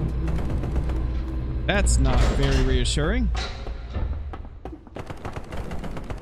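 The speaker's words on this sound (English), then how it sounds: "Gunfire." Bursts of video game gunfire crackle in the background while a voice talks over them, with a rising tonal sweep midway.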